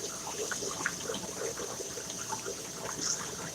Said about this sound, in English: So what I'll do now is I will wash everything that I just filtered out.